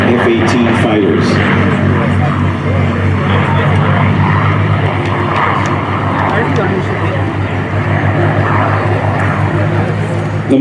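P-51 Mustang propeller fighter flying at an air show, a loud, steady engine drone and propeller roar at close range, with an announcer talking over it throughout.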